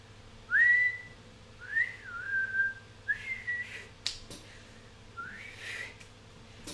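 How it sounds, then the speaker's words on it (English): A person whistles loudly in a few distinct rising-and-falling phrases, clear and close, separated by short pauses, with a couple of sharp clicks between them; fewer than seven whistles are evident. "whistled loudly 7 times"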